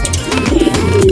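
A homing pigeon gives a brief low coo at close range as it arrives at its loft after an 82 km training flight, a few soft wingbeat or shuffle noises around it.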